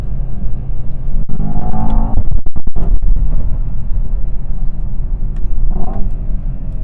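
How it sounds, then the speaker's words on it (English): A Mercedes S63 AMG E Performance with a V8 drives along, a steady low engine rumble heard from inside the cabin, with a few brief clicks and knocks around the middle. "You get that V8 soundtrack, even though I can tell a little bit is pumped in through the speakers"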